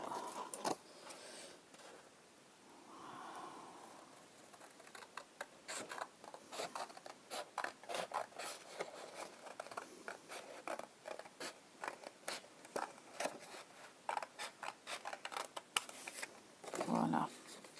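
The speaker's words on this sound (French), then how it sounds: "Je coupe au ciseau." Scissors chew through thick material for a scrapbooking stamp: a long run of crisp, close snips and rasping cuts in an uneven rhythm, fairly quiet, with no talking.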